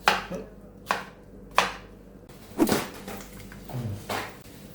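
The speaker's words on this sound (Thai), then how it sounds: "อันดับแรกเรามาหั่นกระเจี๊ยบนะครับ ตัดหัวออก" Knife chopping okra on a cutting board, several firm, evenly spaced thunks close by, slowing slightly toward the end.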